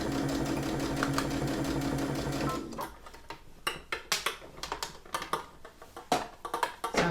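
A sewing machine stitches fabric for a lined drawstring bag, starting with a steady motor whir and then breaking into irregular, close clicks and clacks as the fabric is handled.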